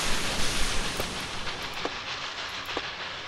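A train rumbles along tracks in the Kubifaktorium video game, a steady noisy roll with a few faint clicks at regular intervals and no voices.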